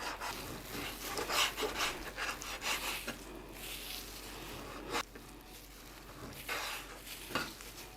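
A knife cuts lamb on a wooden board for Kazakh kuyka, with irregular soft knocks and scraping strokes mixed with faint clinks of utensils, fairly quiet and close, with no voices.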